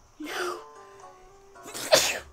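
Two sneezes from a person indoors, a first moderate one and a louder, sharper one about a second and a half later, with a quiet pause between them during a live Animal Crossing New Leaf game session.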